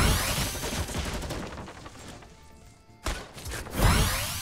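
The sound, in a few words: pump shotgun shots in Fortnite video game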